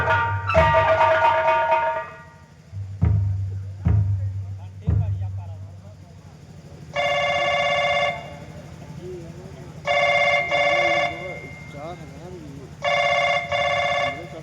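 A telephone rings in three long bursts with pauses between them, preceded by some clattering and a voice talking.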